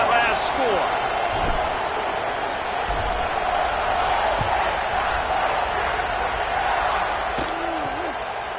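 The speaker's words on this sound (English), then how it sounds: "this crowd is buzzing after that last score" A football stadium crowd buzzing after a score, a dense, loud, continuous roar of many voices filling the whole stretch, with occasional thuds and a speaking voice above it.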